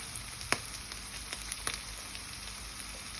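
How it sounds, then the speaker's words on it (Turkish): Steady hiss of an egg frying in a hot pan, with a few sharp crackles and pops over the continuous sizzle. "Bir tane yumurta atayım."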